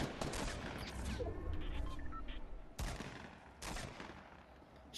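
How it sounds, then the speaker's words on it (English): Bursts of gunfire ring out in a Fortnite match, with a dense volley of shots early on and two further sharp bursts later, loud and close over a noisy background. "who's shooting a gun?"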